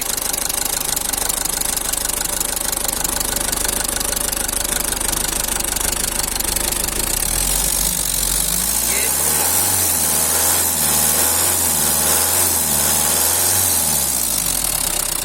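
Idling engine of a 2013 Tata Sumo Gold diesel SUV, started on a single crank, settles into a steady, loud low rumble with a slight knocking beat, surrounded by constant broadband noise.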